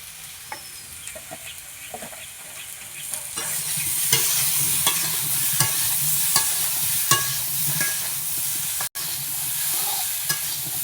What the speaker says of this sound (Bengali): কচুটা আলুটা একটু ভাজা ভাজা হবে,